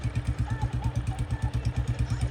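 A Royal Enfield Bullet motorcycle engine running at a steady low idle, a rhythmic thumping beat with a mechanical clatter, fairly faint and heard alone.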